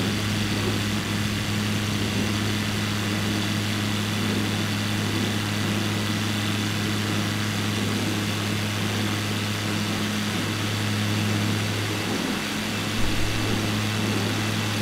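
A small aircraft engine in Microsoft Flight Simulator 2020 accelerating for takeoff near Itaipu, a steady loud engine drone that holds continuously throughout with little change, no speech.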